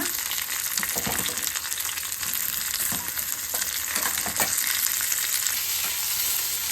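Masala ingredients sizzling in a hot pan for a home-cooked saaru, a dense, steady frying hiss with occasional stirring knocks, close up and fairly loud throughout, no voices.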